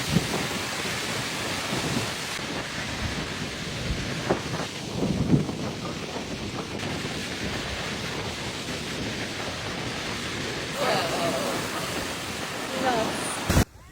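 A tropical cyclone lashes the Queensland coast between Ayr and Bowen, with a continuous heavy roar of driving rain, strong gusting wind and crashing surf that swells in loud surges throughout.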